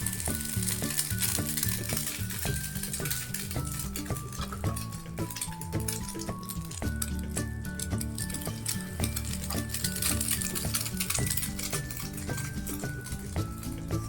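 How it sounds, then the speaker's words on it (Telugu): Egg-dipped bread slices sizzle steadily in a pan for French toast, a constant close frying crackle with occasional utensil clinks, while background music plays throughout. "బ్రెడ్ స్లైసెస్ని ఎగ్ మిక్స్చర్లో డిప్ చేసి ఇట్లా ఫ్రై చేసుకోవాలి"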